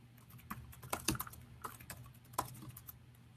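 A password is typed on a computer keyboard in a few quiet, uneven bursts of close key clicks with short pauses between, in a quiet room with no speech.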